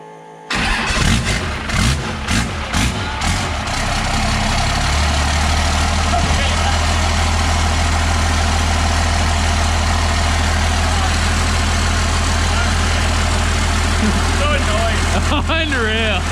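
A 12-valve Cummins diesel engine swapped into a vehicle cranks and fires, then settles into a loud, steady, close idle that runs unbroken for most of the stretch.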